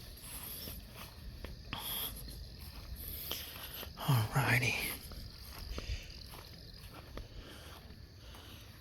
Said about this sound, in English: The sound of crickets chirping is very cozy.